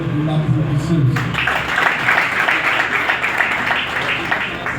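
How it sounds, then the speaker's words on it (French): An audience at a formal political gathering applauds the secretary-general. A speaking voice comes first, then a broad, steady wash of clapping takes over after about a second and holds at an even level. "Madame secrétaire générale, c'est vous que l'entendez tout ce corps, vous l'applaudissez aussi."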